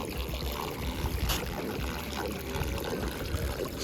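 Salt water trickles steadily through a salt grotto, a continuous wet, splashy wash with no breaks or voices.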